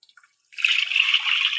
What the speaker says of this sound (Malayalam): ഇനി നമുക്കിതിലേക്ക് ആവശ്യത്തിനുള്ള വെള്ളം ഒഴിച്ചു കൊടുക്കാം